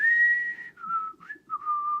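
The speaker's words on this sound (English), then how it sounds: "I can't whistle." A person whistles a few wavering notes: one long held tone, then shorter broken pitches that slide and drop, close and clear with nothing else heard.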